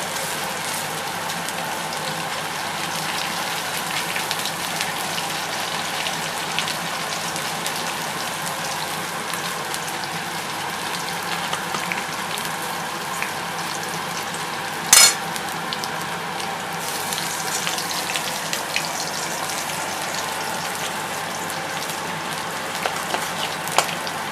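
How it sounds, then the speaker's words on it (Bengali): A spiced green pea filling fries in oil in a pan. It gives a steady, fairly quiet sizzle across the whole stretch, with a sharp clink of cookware near the middle and a few faint scrapes late on. "এখন এটা ভাজা ভাজা হচ্ছে।"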